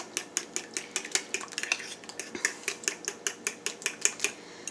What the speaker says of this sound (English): I'm just gonna mix all this together